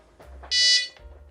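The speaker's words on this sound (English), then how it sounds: "Yeah, nice and simple, easy to use, nice little bite alarm." An NGT VS fishing bite alarm sounds one steady, loud electronic beep tone of about a quarter second, close up, with a bit of handling noise before and after and no talking.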